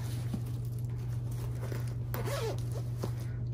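A zipper runs along a handmade zipper pouch in a quiet room, one short rasping pull standing out over a steady low hum, with a few small clicks around it.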